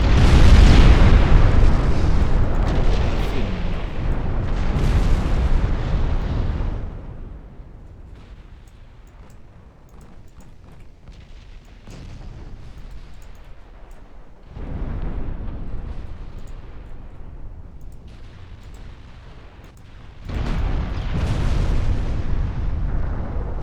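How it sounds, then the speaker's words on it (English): A cruiser's flash fire blows up in the Ultimate Admiral Dreadnoughts naval game, heavy booming blasts rumbling at the start, with further loud explosive bursts returning midway and near the end between quieter stretches. "And flash fire on a cruiser."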